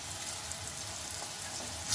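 Onions fry in a pan as ginger garlic paste goes in for a mutton fry, giving a close, constant sizzle with soft bubbling crackle. There is no talk.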